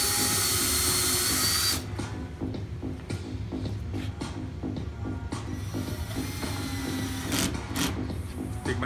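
A power drill countersinks screw holes while a cap rail is mounted, starting with a loud steady whine for about two seconds, then continuing as irregular grinding bursts and ratcheting catches close by, with no talk.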